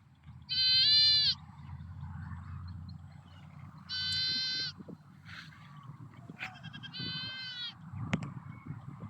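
Goats on a farm bleat in three clear, drawn-out calls, fairly close, over a low rumble of outdoor background noise and faint scattered sounds.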